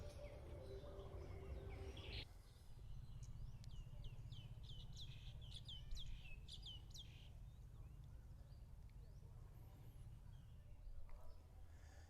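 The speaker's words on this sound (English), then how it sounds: "there's a chorus of singing birds, and it's absolutely beautiful" Birds sing at an old temple site: a far-off chorus of chirps and trilling phrases rises in clustered bursts over a steady low outdoor rumble, and after a brief early clatter no one speaks.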